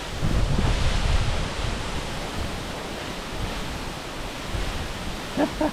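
A steep waterfall in a rainforest gully in Nightcap National Park roars as a steady, broad rush of falling water, close and constant, with wind buffeting the microphone at the start and a faint voice near the end.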